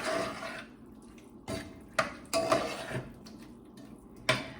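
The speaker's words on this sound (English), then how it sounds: "So I'm just gonna kind of circle this around, stir it around." A spoon stirs plant-based mac and cheese sauce in a pot, with scraping, clinking strokes against the metal and soft liquid sloshing, close and steady, with no talk.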